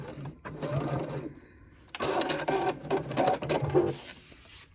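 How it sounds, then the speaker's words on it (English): A sewing machine back stitches along the edge of a zipper pouch, running in two bursts of steady mechanical whirring with a short pause between them, close and loud, with no talking. "I like to back stitch as well to make it extra secure"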